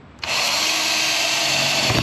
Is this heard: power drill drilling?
yes